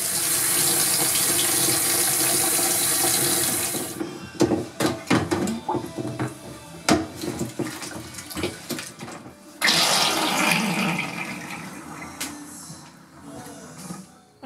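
Running tap water rinses a rusty steel part being neutralized with baking soda and water, a steady rush at first, then intermittent splashes and knocks before the flow resumes and fades.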